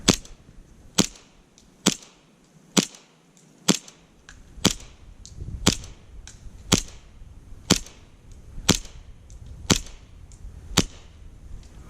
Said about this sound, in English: It's already got a BB in the chamber, so we'll just shoot that out.